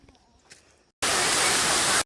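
Inside the Diamante waterfall cave, a steady, loud, full roar of falling water cuts in suddenly after a quiet second that carries a faint voice.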